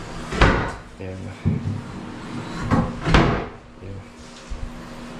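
A cabinet drawer in a house under renovation slides and knocks shut in several hollow wooden thumps, close by, while people talk over the movements.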